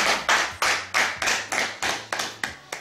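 Guests at a wedding celebration clapping together in a steady, loud rhythm, about three claps per second in unison, with a low sustained musical tone underneath.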